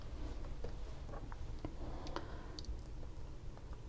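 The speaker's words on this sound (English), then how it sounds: "Let me just rearrange your cards." Tarot cards are shuffled and rearranged by hand, giving soft, quiet clicks and light card taps scattered over a low background hum, with no talking.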